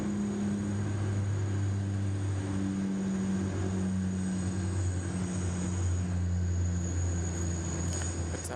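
An airliner lands on runway 34 left at Sydney Airport, a steady, fairly distant engine roar with a low droning hum that holds evenly from start to finish.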